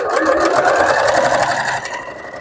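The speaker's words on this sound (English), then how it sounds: "I'm just going to sew down 2 rows close to the end here, using a large stitch" A sewing machine runs at steady speed, stitching rows with a long stitch, close and loud, its rapid even clatter continuing without a break and easing slightly near the end.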